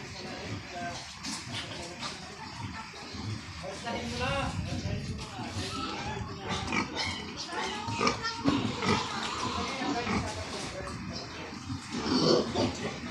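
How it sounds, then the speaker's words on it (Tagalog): Many pigs grunt and shuffle together on a farm, a close, busy mix of oinks and snorts with people talking over them throughout. "Mahigpit na dami ito ng baboy."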